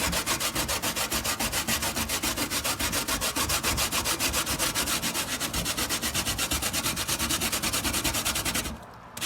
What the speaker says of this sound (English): I'm gonna grate this down.